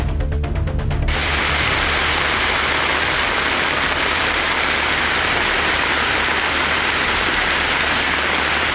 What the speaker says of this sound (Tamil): தஞ்சாவூர் மாவட்டம் கும்பகோணம் மற்றும் சுற்றுவட்டார பகுதிகளில் கனமழை கொட்டி தீர்த்தது.